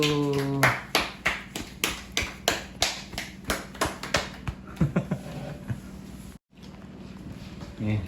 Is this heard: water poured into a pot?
no